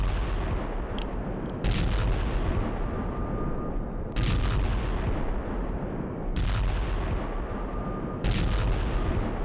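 Artillery fire on Ukrainian front-line positions: repeated heavy booming blasts at irregular intervals over a continuous loud rumbling roar, no talk.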